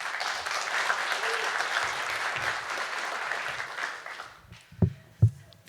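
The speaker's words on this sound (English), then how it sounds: "Give a big round of applause to Laura and Joe." An audience claps steadily for several seconds, then the applause fades and a few last claps and thumps sound near the end.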